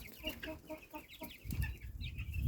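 Young chickens cluck and peep in quick, close bursts after being let out of their coop, with busier scratching and rustling noise in the second half.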